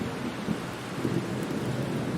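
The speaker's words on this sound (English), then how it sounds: "During a violent storm" A violent thunderstorm sound effect with a dense, steady hiss of heavy rain and low rolling thunder underneath. It is continuous and fairly loud, with no voices over it.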